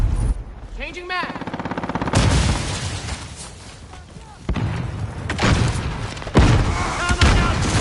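Call of Duty gunfire crackles in rapid bursts and single shots, with automatic rattles and heavier booming reports spread across the scene, mixed with other battle noise and shouted voices.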